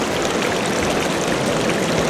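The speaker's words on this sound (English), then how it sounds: "the water is coming through here for some reason" Water flowing through a channel along a bicycle route, a steady broadband rushing and burbling stream, close and continuous without pause.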